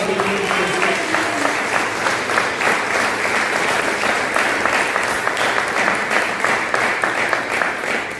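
A church congregation applauds, steady dense clapping from many hands sustained loud and close throughout, with a few voices faintly mixed in.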